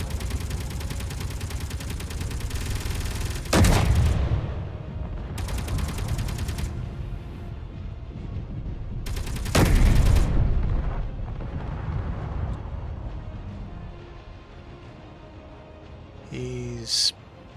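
Gunfire and blasts in Space Engineers, with a rough, continuous mechanical rattle broken by two loud, sharp impacts and a few shorter bursts before it fades to a quieter tail.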